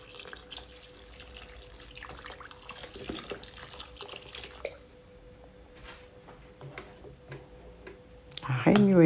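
Water poured from a container into a pot for courgette soup with bouillon, a soft steady splashing and trickling at close range for several seconds, ending in a louder gush as the flow finishes.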